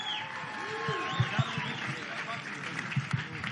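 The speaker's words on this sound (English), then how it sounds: "give a round of applause to Vito Mielnicki Jr." Audience applause and cheering for boxer Vito Mielnicki Jr. at an open workout at the MGM Grand, scattered claps rising from a crowd under a loud announcer's voice.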